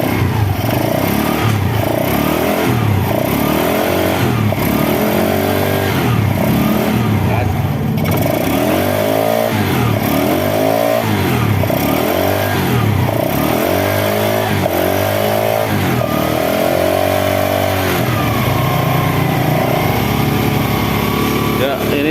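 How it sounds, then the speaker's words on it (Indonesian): A motorcycle engine with oil rising into the air filter and oil coming out of the crankcase breather hose is revved repeatedly in a workshop, loud rhythmic surges over a steady idle for about twenty seconds. "Ya, coba digas."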